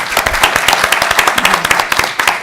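A room full of attendees at a teachers' federation candidates forum claps steadily, dense overlapping applause at close range with no pause for the full stretch.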